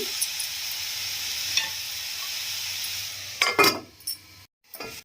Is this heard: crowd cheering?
no